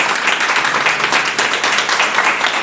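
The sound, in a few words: applause in church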